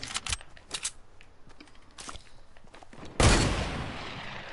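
A hunting rifle sniper shot in a video game cracks out as a single loud, sharp blast with a lingering noisy tail, after a run of quieter clicks and distant shots.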